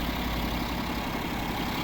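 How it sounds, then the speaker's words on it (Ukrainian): The 3.0-litre diesel in a 2011 BMW 740d F01 xDrive idles steadily, a close, continuous low rumble with an even mechanical clatter and no voices. "Ось двигун знаменитий 3 літра,"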